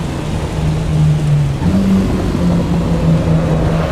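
Steady rain falls on a dark race track in Assetto Corsa Evo, a dense hiss of rain on the surface and windscreen running continuously beneath a low, steady car engine drone.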